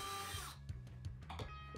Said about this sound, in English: For the smaller piece, I just drilled a 1/4-inch hole.